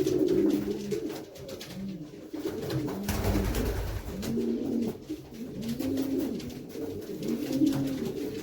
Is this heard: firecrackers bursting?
no